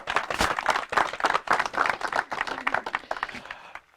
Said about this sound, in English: So again, one more round of applause for Tom Pettit.